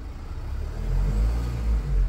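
A Range Rover Evoque engine revs up under a steady low rumble, the pitch and loudness swelling in a couple of surges as the throttle is pressed, heard from inside the car with no talking.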